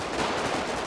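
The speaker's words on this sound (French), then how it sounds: "Oh, ça tire!" Gunshots in a dense, continuous burst, a short loud stretch of rapid fire with no clear gaps and no voices.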